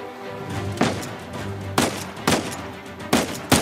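Gunfire in the video game Uncharted 4: five loud, sharp shots spaced irregularly about a second apart over a steady low background hum, with no talking.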